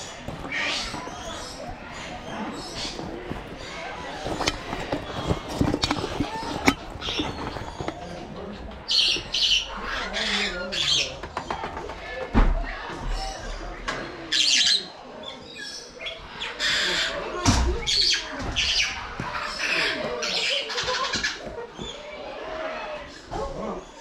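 Birds squawk and chirp in scattered bursts around an animal attraction in Pigeon Forge, Tennessee, some calls loud and close, with footsteps and occasional voices in the background.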